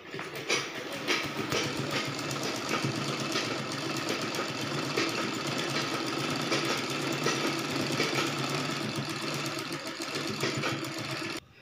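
Steady continuous whir and rapid mechanical chatter of a sewing machine stitching a blouse, running loud and unbroken for the whole stretch with no talking.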